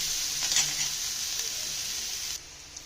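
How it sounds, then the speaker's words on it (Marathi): Chopped onion fries in a pan for Sangli-style upma (upit) with a bright, steady sizzle, close and moderately quiet, that cuts off abruptly near the end. "चांगला खरपूस असा कांदा भाजून"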